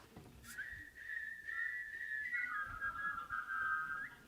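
A single person whistles a tune, a clear sustained melody carried alone at close range, wavering gently between notes for a few seconds with only faint room noise around it.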